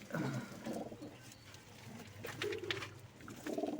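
Soft pigeon coos repeat in low murmuring bursts, close by, with a faint rustle in the background.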